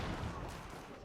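Hand cannon gunfire in a medieval strategy game battle: dense, continuous crackling volleys that blend into a loud, steady roar for about a second, with possible faint talk underneath.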